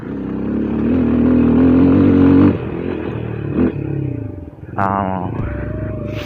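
A Scrambler 250 motorcycle engine hums and rumbles nearby, steady then shifting in pitch, with someone talking over it.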